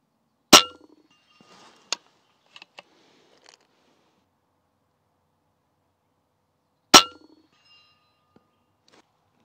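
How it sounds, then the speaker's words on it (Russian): Pellets from a Storm Goliath Magnum bullpup 6.35 mm PCP air rifle striking a steel gong target, two sharp ringing clangs about six seconds apart, each with a short decay, and faint small clicks and taps in between. "И я сейчас сразу же подведу на центр гонга."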